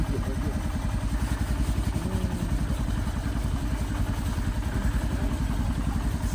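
A motorcycle engine idles steadily with an even, throbbing low rumble throughout, getting ready for a cold-morning ride toward the Korola border crossing, with faint talk in the background.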